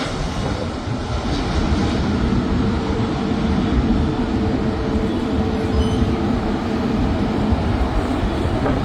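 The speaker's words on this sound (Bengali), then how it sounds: "এই যে ল্যান্ড করে ফেললো বিমানটি" A large US-Bangla Airbus A330 airliner landing at Dhaka airport produces a steady, broad roar of engine and rolling noise, heard from a distance with no talking.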